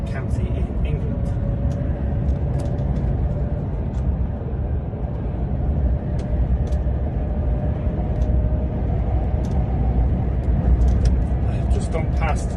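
A car cruising along a country road in Gloucestershire, England, with a steady, even road and engine rumble heard from inside the cabin, plus light ticks and rattles scattered throughout.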